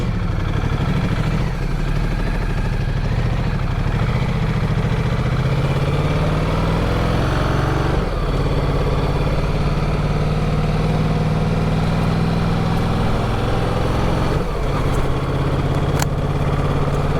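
A Ducati Multistrada V4 motorcycle engine runs loud and close throughout, revving and pulling away with shifting pitch, with no talking.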